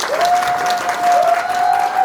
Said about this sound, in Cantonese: 可唔可以再俾多啲掌聲？